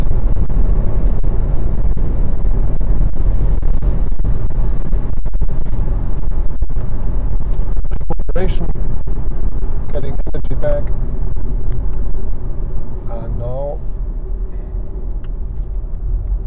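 A VW e-Golf electric car driving cross country after leaving the highway, with loud, constant road rumble and wind noise filling the cabin and a voice briefly heard near the end.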